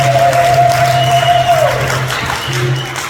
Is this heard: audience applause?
yes